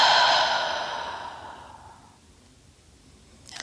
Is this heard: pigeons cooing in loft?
no